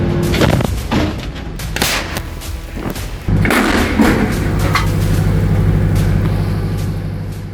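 A heavy boom from an American self-propelled artillery gun firing lands partway through, preceded by clanks and thuds, then a sustained loud rumble of machinery follows.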